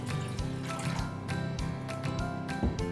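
Water is poured into a container of white beans set to soak, giving a close, continuous splashing and trickling. Small bubbly gurgles and drips run through the pour, and no one speaks.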